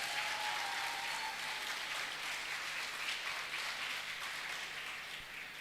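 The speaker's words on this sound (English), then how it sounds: "A big round of applause for him." An audience in a church applauds, a dense, steady wash of clapping from many hands that holds throughout and eases slightly at the end.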